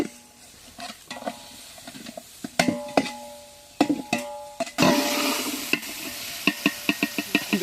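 Mint and tomatoes go into a pot of frying chicken biryani cooked outdoors in a village, with a steady sizzle that grows louder, punctuated by repeated sharp clanks and scrapes of a ladle stirring against the metal pot.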